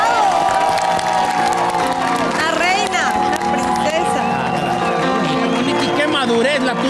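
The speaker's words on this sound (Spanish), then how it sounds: "Despidamos a Hadasha en este momento con un fuerte aplauso." A studio audience on a television talent show cheers and applauds loudly and continuously, with shouting voices and music-like tones mixed into the crowd noise for about seven seconds.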